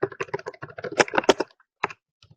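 Rapid keystrokes on a computer keyboard, close and crisp, in a quick burst that thins out into a few isolated taps and an Enter press at the end.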